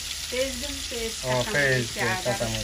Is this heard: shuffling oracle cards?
no